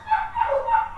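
Dogs bark and yip in quick repeated bursts, fairly loud and close, over about a second with no talking.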